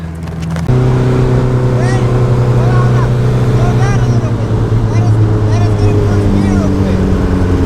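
A turbocharged Honda Civic idling then launching in first gear for a street pull, a loud steady engine drone with rising whistle-like turbo tones and background chatter and voices.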